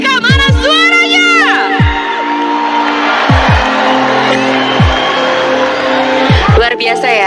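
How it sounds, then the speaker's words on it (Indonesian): Large stadium crowd at Gelora Bung Karno in Jakarta cheering and whooping loudly and continuously at a rally welcoming a president, with booming announcer calls and singing rising over the roar. "Boleh kita minta tepuk tangan sekali lagi dan semangat menyambut Bapak Joko Widodo"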